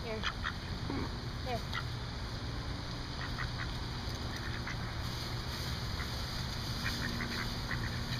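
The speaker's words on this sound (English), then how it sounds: "That's it, you ducks." Ducks quack in short bursts while being hand-fed, close by, over steady low background rumble, with a person talking intermittently among them.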